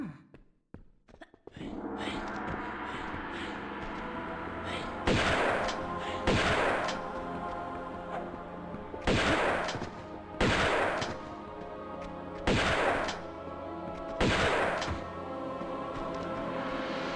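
Shotgun blasts in the video game Tomb Raider II: loud single booms in pairs, spaced every couple of seconds over a steady background hum, with no talking.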